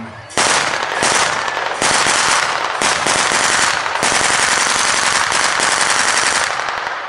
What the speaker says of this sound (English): That's a Browning 1919 machine gun.